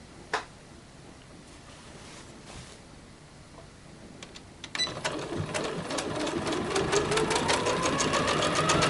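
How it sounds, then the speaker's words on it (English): A sewing machine stitches a decorative pattern onto a blanket, starting after a quiet stretch with a few clicks, then running steadily and growing louder as rapid mechanical chatter fills the second half. "I'm putting this pretty little decorative stitch on it."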